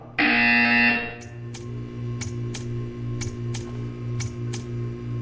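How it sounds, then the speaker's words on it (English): A loud electronic buzzer from the video game Portal 2 sounds once for about a second. Sharp ticking clicks follow it over a low steady hum. "You will hear a buzzer."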